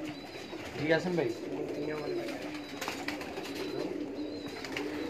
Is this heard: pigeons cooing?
yes